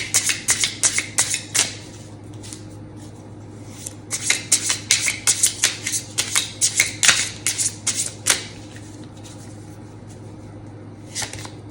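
A small Shuffle Harder mini tarot deck is riffled and shuffled close up, in bursts of crisp card flutters and slaps, a pause around the two-second mark, then a longer rapid run and a final short shuffle.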